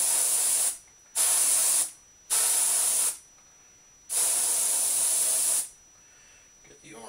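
An airbrush sprays orange paint onto a crankbait fishing lure in four sharp, loud hissing bursts of one to two seconds each, separated by short pauses, close up.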